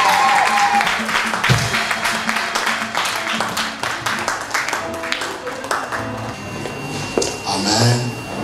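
A church congregation applauding, a steady loud wash of clapping hands across the whole stretch, with voices mixed in.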